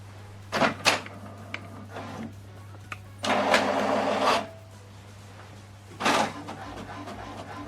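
An HP DeskJet 4100 inkjet printer printing a page, giving short mechanical whirs and clunks of the feed and carriage, with a longer run of motor noise in the middle and a final whir, close and moderately loud over a steady hum.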